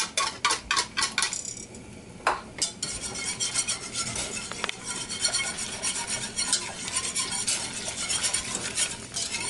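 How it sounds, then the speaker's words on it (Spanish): Chicken wings stirred in a bubbling pineapple sauce in a pot, a spoon repeatedly scraping and clinking against the metal in a steady rhythm over a soft simmering hiss, close and clear. "Voy a mezclar ahí bien"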